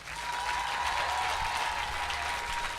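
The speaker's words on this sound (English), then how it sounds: "Clap if you think Bond could be a woman" A live audience at a talk event claps to vote, producing a steady, dense round of applause for nearly three seconds, moderately loud with a faint tone underneath.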